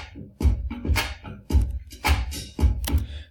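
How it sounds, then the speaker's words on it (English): A GarageBand drum loop named Sparks Fly plays a steady beat of punchy kicks with bright snare and cymbal hits, repeating in an even rhythm at close, moderate volume with no voices. "I'm thinking about the one called Sparks Fly, which sounds like this."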